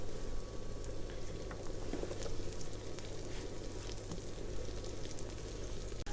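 Onion fries in a pan in a steady, dense sizzle with crackling pops, continuous and close-up, with no one talking.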